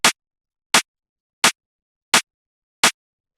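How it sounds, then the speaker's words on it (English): Drum and bass snare drum sample with a hard-hitting rim shot, played five times at an even pace, each hit a sharp, bright crack that stops dead into silence. "after that we have the snare,"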